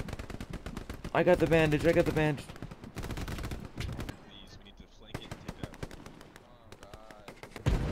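Automatic machine gun fire in the World War II shooter Hell Let Loose, rapid bursts cracking loudly through the first half, then scattered distant shots under voice chat as players talk.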